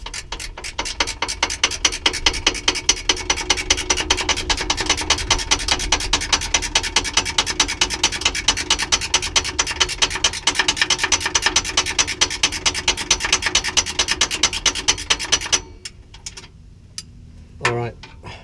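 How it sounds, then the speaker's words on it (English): Ratchet spanner winding down a torsion bar adjusting bolt on a Mitsubishi Pajero, a fast, steady train of loud close clicks for about fifteen seconds, then a few separate knocks. "If you're lucky enough to have a ratchet spanner, comes in handy right now, just to wind this down a few turns."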